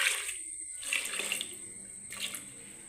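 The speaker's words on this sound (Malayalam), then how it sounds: "നമുക്ക് അതിനകത്തോട്ട് കുറച്ച് വെള്ളം ഒഴിക്കാം." Water poured into a pressure cooker holding pumpkin and quick-cooking dal, a faint continuous splashing trickle with a couple of brief swells.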